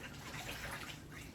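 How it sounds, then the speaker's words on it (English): A cleaning cloth is rinsed in a bowl of water with a soft, brief sloshing and trickling, faint and close, with no speech. "you want to give your cloth a really good rinse out in your water"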